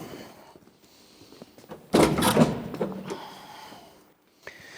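A Fiat Dino's door clicks and swings open with a short burst of creaking and rattling, then the noise settles back into quiet.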